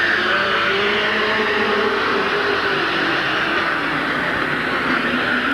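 Race cars lapping Midvale Speedway in a 1986 four-car, five-lap feature, a steady loud engine roar droning throughout with no pause.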